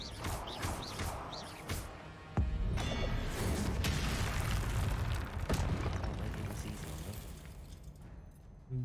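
A Confringo spell explosion in Hogwarts Legacy, a sudden booming blast followed by a sustained rumbling roar and crackling debris, loud and close, with brief sharp impacts before it.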